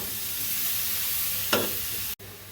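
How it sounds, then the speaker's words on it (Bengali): Spice masala for a paneer, potato and soybean curry fries in a pan with a constant close sizzle, broken by a single scraping stir of the spoon. "এই যে আমার খানিকটা মশলাটা ভাজা ভাজা হচ্ছে, নাড়াচাড়া করে মশলাটাকে কষিয়ে নিচ্ছি"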